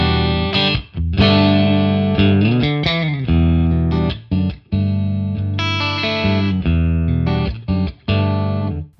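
Electric guitar through a PolyChrome DSP HyperRig room simulation effect, playing chords and single notes with a spacious, slightly distorted tone; steady and loud, no voices.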